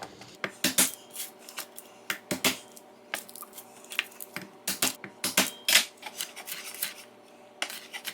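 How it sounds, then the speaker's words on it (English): Onion being chopped with a knife on a board, a run of sharp, close, irregular knocks and taps, some in quick bursts, with no voice. "Not the most graceful onion chopping that I've ever done"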